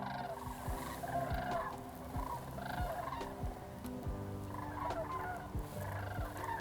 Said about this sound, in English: People call the noises these birds make bugling or trumpeting.